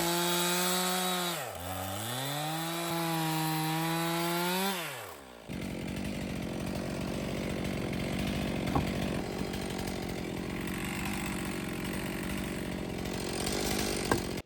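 A chainsaw revving and bogging, then biting steadily into a large tree trunk while felling it, its engine droning loud and close in an uninterrupted cut.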